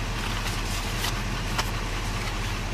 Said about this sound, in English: shut off the engine for me